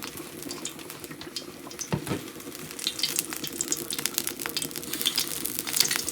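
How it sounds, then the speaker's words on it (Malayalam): Flattened fish pieces sizzle and crackle steadily in boiling oil, the frying growing busier with sharp spitting pops, no talking. "ആ തിളച്ച എണ്ണയിൽ നമ്മൾ വേണ്ട മീൻ പരത്തി വെച്ചത് അങ്ങോട്ട് ഇട്ട് കൊടുത്തിട്ടുണ്ട്"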